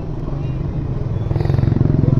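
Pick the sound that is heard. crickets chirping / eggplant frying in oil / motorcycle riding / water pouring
motorcycle riding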